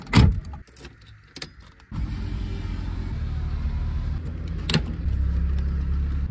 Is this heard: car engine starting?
yes